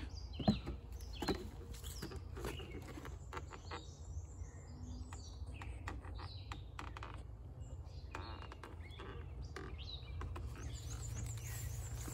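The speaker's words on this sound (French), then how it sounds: "Agréable, le son des oiseaux." Faint bird chirps and tweets come from urban woods beneath electricity pylons, scattered over a steady low rumble of background hum.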